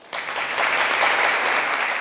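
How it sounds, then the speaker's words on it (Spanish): A university lecture audience breaks into applause to welcome a speaker, starting abruptly after a brief quiet moment and continuing as a dense, sustained clapping. "ofrezco un fuerte aplauso para dar la bienvenida a Lizeth"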